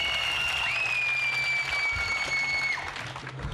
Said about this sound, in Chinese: 大家拍拍，掌声鼓励一下。